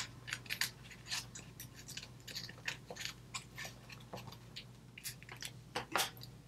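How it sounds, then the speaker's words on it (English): Scissors snip a small piece off a cardboard paper craft, making a rapid run of crisp close snips and crunches at an uneven rhythm, quiet overall and with no talking. "I'm just going to cut this tiny piece off here"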